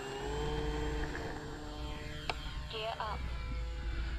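An AVIOS King Twin twin-engine RC plane taking off into the wind, its propellers holding a steady buzzing drone that stays fairly close and constant, with a few brief clicks and chirps mixed in.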